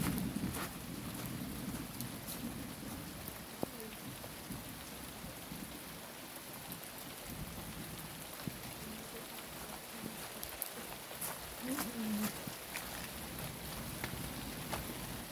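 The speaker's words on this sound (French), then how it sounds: "je sais pas si la pluie va s'arrêter, qu'on a eu un autre gros coup de tonnerre" Steady rain pours down in a continuous hiss during a thunderstorm, with faint low rumbles of distant thunder rolling underneath, in Montady, France.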